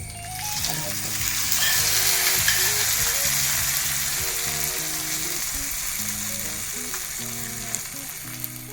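A loud, steady sizzle of dried chillies frying in hot oil runs throughout, with soft music underneath and a couple of light clicks near the end.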